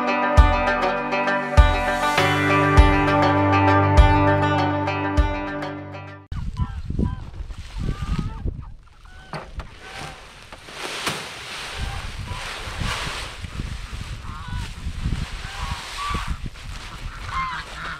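Geese honk loudly and repeatedly on a farm, joined by clucking fowl, first under a stretch of music and then alone with outdoor ambience.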